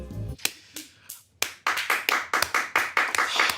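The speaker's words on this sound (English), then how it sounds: "Are you all applauding in habit?" An audience claps in several quick bursts, sharp close hand claps starting scattered and then building into a faster, steadier run of applause.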